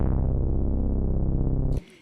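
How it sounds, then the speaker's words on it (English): A single low note held on a keyboard, a rich, steady tone with strong low harmonics that sustains loudly for nearly two seconds before cutting off sharply, leaving a brief faint tail. "it's a low note because of its position on the keyboard"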